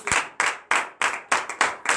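A church congregation at a morning prayer service claps in acclamation, a brisk run of about seven sharp, evenly spaced handclaps, close and fairly loud.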